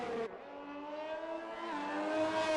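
A race car laps Imola in a sim racing game, its engine a steady buzzing whine that drops sharply at a shift, then climbs smoothly in pitch as it accelerates, fairly quiet and continuous.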